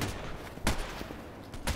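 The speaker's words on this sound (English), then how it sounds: "somebody is shooting from the left" Gunfire cracks in a sniper video game, with two or three distinct shots over a low, continuous background, moderately loud and close.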